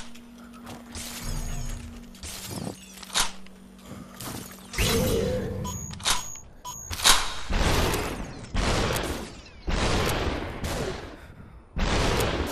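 Gunfire in the video game Superhot comes as a series of sharp, loud game shots and crashes in irregular bursts, with mechanical clicks between them and no talk.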